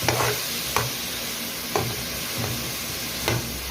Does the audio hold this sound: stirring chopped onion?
yes